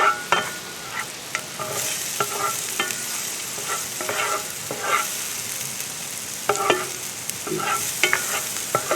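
Vegetables and garlic frying in a pan, a steady sizzle broken by repeated scraping clicks of a utensil stirring, close and fairly loud with no talking.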